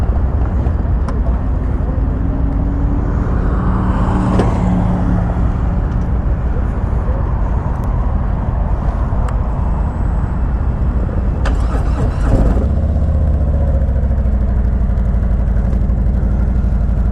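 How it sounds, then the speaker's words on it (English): A 2018 Road Glide Ultra motorcycle with a Milwaukee-Eight engine is cranked by a weak, labored-sounding starter motor and catches around twelve seconds in, then idles steadily amid constant wind and road rumble. "that starter motor sounds a little asthmatic"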